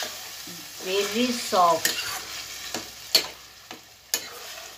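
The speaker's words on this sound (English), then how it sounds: "Fry it well till it mixes well and then it becomes" Chicken with green chilies frying in a pan for an Indian Dakhni recipe, with soft sizzling under scraping and clinking stirs, a few sharp spoon taps against the pan, and a quiet voice briefly at the start.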